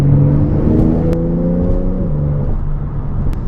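A Porsche 911 992 Turbo S engine accelerates loudly and close by, a rising whirring tone stepping up in pitch before easing off into a steadier drone.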